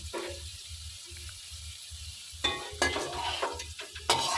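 Fried pieces crackle and sizzle in oil in a pan, first a soft bubbling behind a low rhythmic hum, then louder bursts of spluttering and scraping near the end as they are moved about.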